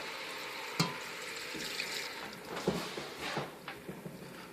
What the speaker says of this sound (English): now I'm going to add some beef broth, 1 cup